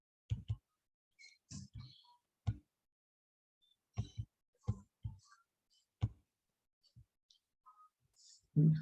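A few light mouse clicks spaced through otherwise quiet room sound while buttons on a project dashboard are pressed, soft isolated taps with long gaps between them.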